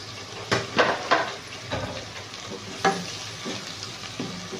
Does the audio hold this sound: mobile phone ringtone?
no